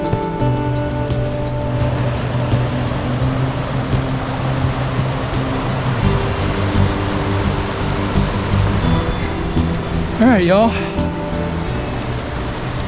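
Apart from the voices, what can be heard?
Linville River flowing in Linville Gorge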